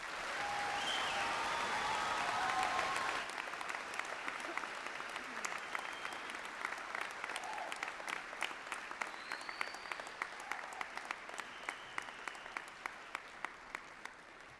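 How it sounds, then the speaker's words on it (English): A graduation audience at a high school commencement breaks into applause, a loud crowd clapping that swells at first, then thins into scattered individual claps that fade away. "Let's give them a round of applause."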